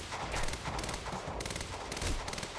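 Sustained rapid gunfire from Quantum Break, dense and loud, with repeated bursts of automatic shots running through the whole moment without a break.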